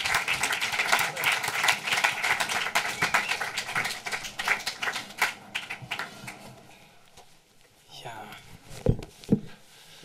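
Audience applause rises for Detlev Buck at a film museum event, brisk clapping that fades after several seconds and gives way to a few scattered sounds and talk.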